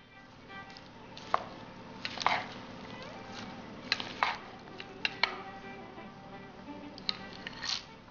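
Green papaya salad with green chilies and roasted cumin powder is tossed in a bowl, giving quiet, scattered clinks and soft scrapes of a utensil at close range.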